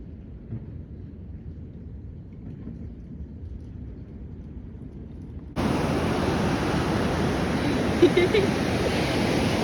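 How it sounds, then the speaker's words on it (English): Ocean waves wash onto a California beach, a steady broadband surf roar that turns suddenly louder and fuller partway through, with brief voices and exclamations faintly mixed in. "Beach!"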